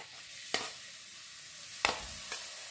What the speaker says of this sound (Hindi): प्याज भून रहा है